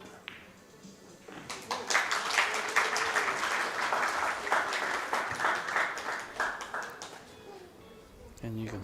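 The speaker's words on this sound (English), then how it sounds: "you can see the applause getting a little louder in anticipation of another set tied" Spectators at a semi-final of the WPA World 9-ball pool championship in New Zealand break into scattered, then fuller applause that swells and fades, with a commentator speaking quietly over it.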